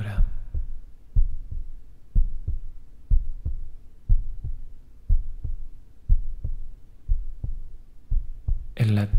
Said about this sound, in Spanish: El latido de mi corazón